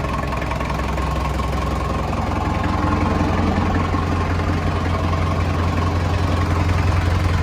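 An HMT 5911 tractor fitted with a 75HP Sonalika engine turning at slow revs, a steady low, rumbling idle that holds even and loud throughout with no voices.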